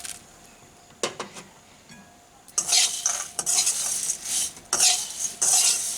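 A spoon scrapes and stirs flattened rice with fried nuts in ghee in a pan, with a couple of sharp clinks early, then a run of louder, rhythmic scraping strokes and faint sizzling.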